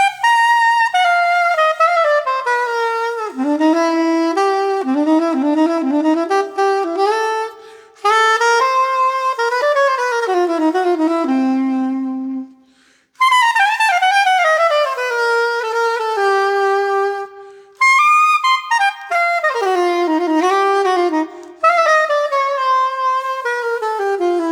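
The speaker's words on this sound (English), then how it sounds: "I'm also going to add that chromatic passing tone, which we call a dominant 7 bebop scale" A dominant 7 bebop scale with its added chromatic passing tone, played as several loud, clear melodic runs that rise and fall, with short gaps between phrases and no talking.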